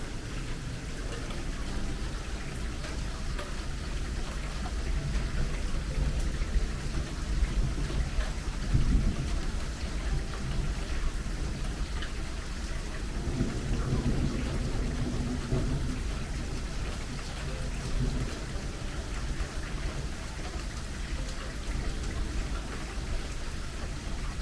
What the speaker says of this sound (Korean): 멀리서 벼락과 천둥이 거의 계속되고 있습니다.